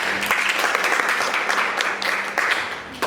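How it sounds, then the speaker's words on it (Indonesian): A school class claps together in a short burst, the sound close and fairly loud, with a few individual claps standing out and a faint voice briefly underneath. "Tepuk tangan, Pak"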